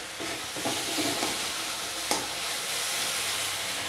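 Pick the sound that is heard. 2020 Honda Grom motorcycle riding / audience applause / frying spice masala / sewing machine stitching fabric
frying spice masala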